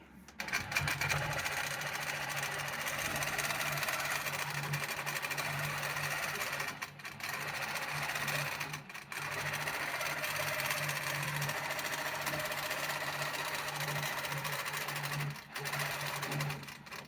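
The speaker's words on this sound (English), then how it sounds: "So I'm going to start quilting." Longarm quilting machine stitching a pantograph pattern, a steady mechanical whirring hum with rapid stitching rhythm, briefly stopping twice and again near the end.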